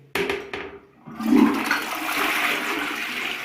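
A toilet in a new-build apartment flushes loudly after a couple of sharp clicks, water rushing and swirling steadily into a sustained hiss as the tank drains.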